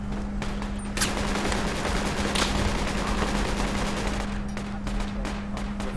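Sustained gunfire in the military shooter game Project Reality, dense rapid bursts and shots crackling continuously over a steady engine hum, loud and close throughout.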